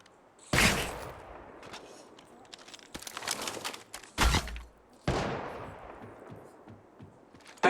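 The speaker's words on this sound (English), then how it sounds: "They are attacking. Opening fire." Gunfire in the Apex Legends shooter video game: several sharp, loud shots and short bursts spaced a second or two apart, each trailing off into an echoing decay.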